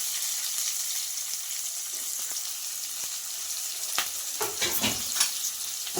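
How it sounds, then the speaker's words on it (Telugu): Onion frying in a pan with cumin for a ridge gourd and milk curry, a steady bright hiss of oil with a few stirring scrapes near the end, close and moderate in level, with no talking. "ఉల్లిపాయలు అనేది బాగా దోరగా వేగాయండి"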